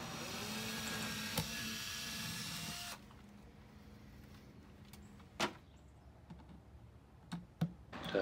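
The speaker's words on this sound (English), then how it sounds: "I'm going to just run 3 little pilot holes up into the eave of the house there." A small drill bores pilot holes into thin plywood under a house eave, with a steady hum for three seconds followed by quieter handling and several sharp clicks and knocks.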